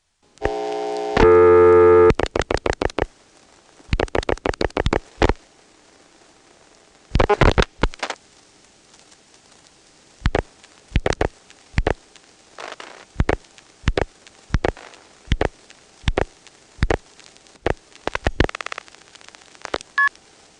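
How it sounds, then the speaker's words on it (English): Telephone exchange signalling on a line dialed to 121 and a string of ones, through senderized XY step switches near Dale City, Virginia: a dense tone burst, then a long run of evenly spaced clicks and short pulses, the switch hanging at the end. "It did the billing clicks, and then it just sent a key pulse, and here it hangs."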